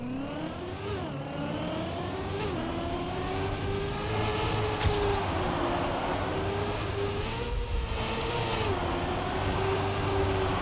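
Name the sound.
racing car engine in video game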